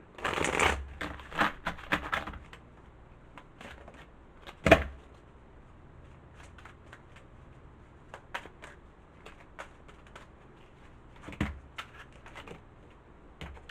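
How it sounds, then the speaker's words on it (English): Tarot cards are shuffled in quick riffling bursts at the start, followed by scattered soft taps and flicks with quiet gaps, close by. "Shuffle it again."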